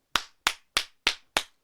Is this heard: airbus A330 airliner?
no